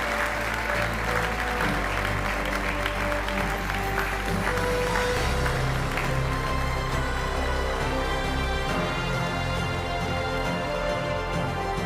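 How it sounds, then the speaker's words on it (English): Sustained audience applause for a women's basketball team at an awards ceremony, dense and steady throughout, loud and close, with no gaps or talk over it. "One more round of applause if we can."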